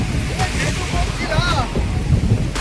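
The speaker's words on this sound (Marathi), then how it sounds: "जरा खवळलेलाच आहे वारा भरपूर आहे" Strong wind on a rough sea buffets the microphone aboard a small fishing boat, a loud, continuous roaring rush with wave wash underneath, and faint voices in the background.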